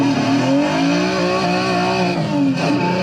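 Modified Nissan Z, a 350Z or 370Z, roars through a racing simulator, engine revving loud and close with rising and falling pitch sweeps that never stop for the whole stretch.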